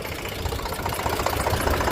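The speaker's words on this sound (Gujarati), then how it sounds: "ને હવે આપણે ટ્રેક્ટર લઈને વહી જાય પાછા ઘેરે" A tractor engine runs at a steady idle close by, a dense, even mechanical rumble and clatter with no talk over it.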